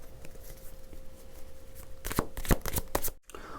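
Tarot cards being shuffled, a quick run of riffling flutters near the end after a quiet stretch, close and soft.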